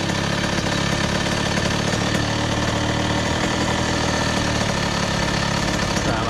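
A 2001 Honda CR80 two-stroke dirt bike engine idles steadily and loudly up close, a dense continuous buzzing rattle that holds without pause throughout.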